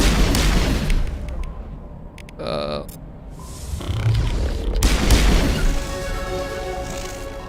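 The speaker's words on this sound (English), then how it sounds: "Like the gunshots and the abilities are so much louder than everything else." Gunfire and ability explosions in the video game Mass Effect Legendary Edition: loud booms and sharp bursts arrive in irregular clusters, with a rumbling blast near the middle and crackling action on either side.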